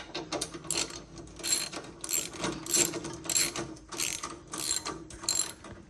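Hand ratchet loosening bolts on a Harley-Davidson Road King FLHR adjustable lowering kit, clicking in quick repeated strokes up close, with rhythmic bursts of pawl clatter and no talking.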